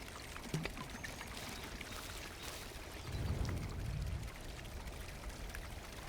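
A container is filled with water in the Cairn video game, a soft trickling pour that swells into a fuller gush for about a second before easing back, quiet against a faint background hiss.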